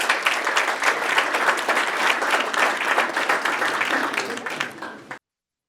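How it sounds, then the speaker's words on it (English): An audience at a startup software showcase applauds with dense, steady clapping for about five seconds before it stops abruptly. "1 more round of applause for Nick."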